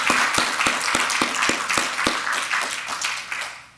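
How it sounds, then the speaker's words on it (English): An audience gives a round of applause at a talk about Amish farm and home life, a dense wash of many hands clapping that stays steady and then tapers off slightly toward the end. "Please join me in giving her a round of applause as well."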